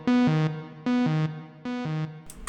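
Serum synth notes repeated at lower velocity to imitate a delay, three short patterns of two sustained tones, each echo softer than the one before, clean and close with no talking.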